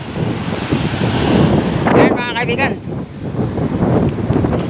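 Wind roars against the microphone over heavy sea waves beside a small fishing boat, a loud steady wash with a short spoken phrase over it.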